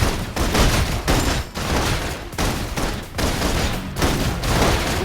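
Sustained, heavy suppression gunfire in the video game Love and Deepspace, a dense, loud barrage of rapid shots and booms with brief dips, continuous throughout.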